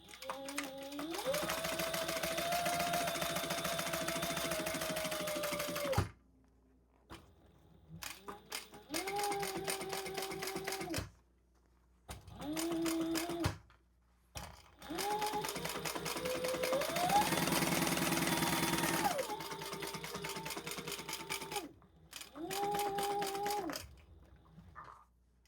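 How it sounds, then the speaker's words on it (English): Domestic sewing machine stitching a row around a crossbody bag in several bursts, with steady motor hum and rapid needle clatter that stops and starts between pauses, close and fairly loud. "I am going to do one more row of stitching"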